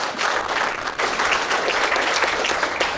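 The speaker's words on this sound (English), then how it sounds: "I'm sorry to have you keep clapping" Audience applause at a groundbreaking ceremony for an apartment building: dense, sustained clapping from a sizable crowd, steady and fairly loud throughout with no pause.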